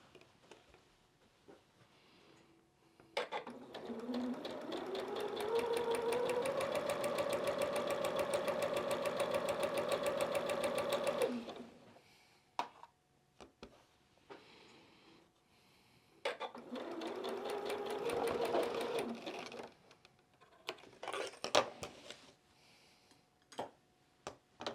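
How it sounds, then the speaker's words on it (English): Sewing machine stitching quilt pieces together, running in two steady sustained bursts with a mechanical hum and a pause between them, close and fairly quiet. "we're going to sew these together."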